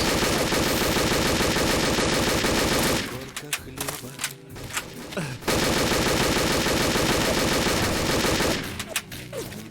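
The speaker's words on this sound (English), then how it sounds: "I'm shooting the same dude over and over" Rapid automatic gunfire from the PC shooter Specnaz 2, loud and sustained in long bursts, broken by a short pause of scattered shots and impacts midway.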